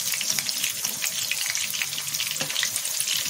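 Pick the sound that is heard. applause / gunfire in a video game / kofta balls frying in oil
kofta balls frying in oil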